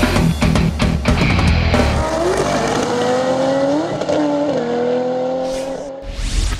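Race cars scream past on a track during a track day with the GT Series and Turismo 1600, engines loud and close, rising and falling in pitch as they pass, with tire squeal.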